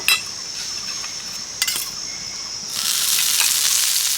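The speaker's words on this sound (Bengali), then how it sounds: "পরেরগুলো একই রকমভাবে ভেজে নেব, একটু বাটার দিয়ে দেব।" Bread slices frying in butter in a pan give a steady, close sizzle with a faint high hiss, one brief clink partway through, and the sizzle swelling louder and brighter toward the end.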